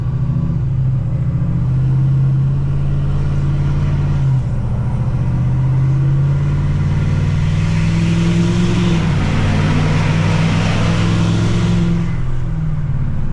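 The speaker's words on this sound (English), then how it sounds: "these factory turbos have way more of a whistle than the factory turbos on like a 17 to 19 truck" A 2024-or-newer Ford 6.7 Powerstroke diesel pickup, tuned to roughly 587 wheel horsepower, accelerates at light throttle: a steady, deep engine drone with a turbo whistle that swells and rises loudly toward the end.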